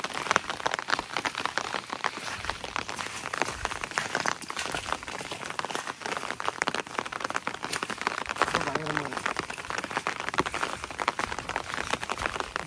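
Steady rain falling outdoors on a site where people are digging for buried treasure, a constant close patter with scattered sharper drops and no pauses.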